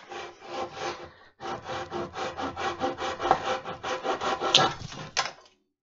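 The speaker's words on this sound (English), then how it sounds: "My first crosscut into hard maple." A hand saw crosscuts hard maple in steady back-and-forth rasping strokes, close and clear, with one short pause partway through and no talking.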